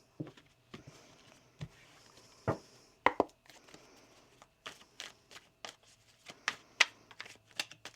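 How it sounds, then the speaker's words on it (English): A deck of tarot cards being shuffled, a series of sharp papery riffles and taps in irregular bursts, close and fairly quiet in an otherwise still room. "And we'll get one more shuffle now."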